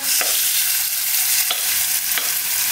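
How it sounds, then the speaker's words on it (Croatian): Sliced chicken hits hot olive and sunflower oil in a wok and sizzles loudly and steadily up close, with a few sharp scrapes of stirring cutting through the hiss. "Staviti ovo narezano meso i malo ga promiješati."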